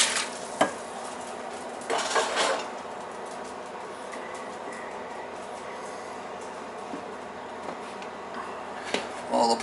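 Portuguese red chorizo sausage going into a soup pot, with a few sharp clinks and scraping stirs early on over a steady low hiss of cooking, then quieter bubbling with occasional utensil knocks.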